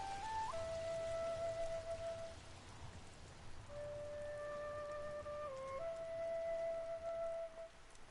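Steady rain falls in Ghost of Tsushima, a faint continuous hiss of drops on surfaces heard under soft sustained tonal music.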